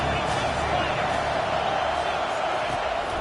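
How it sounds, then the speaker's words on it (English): Loud stadium crowd roaring steadily at a Syracuse college football game on a third down, a dense continuous wall of cheering with commentary over it. "this crowd is tearing the lid off this place."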